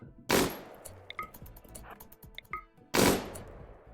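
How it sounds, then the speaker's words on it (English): Short bursts of gunfire from colonists shooting insect hives in RimWorld, two loud broadband volleys a few seconds apart with quieter clicks and ambient game sounds between them. "let's go ahead and shoot some of these hives."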